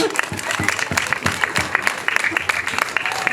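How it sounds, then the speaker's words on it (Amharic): Children in a classroom clap together for a classmate, a dense, lively round of applause that stays busy and close throughout. "ሁላችሁ አጨብጭቡላት እስኪ።"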